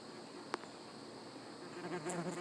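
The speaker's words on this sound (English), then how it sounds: "I've got bees hovering around me, something fierce." Faint buzzing of bees drifting around nearby against a quiet outdoor background, with a brief click partway through.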